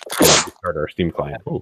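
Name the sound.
sneeze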